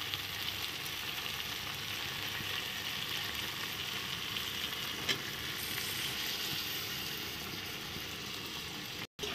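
Milk and paneer stirred together in a hot pan, giving a continuous even sizzle with faint scraping, steady throughout and with no voices.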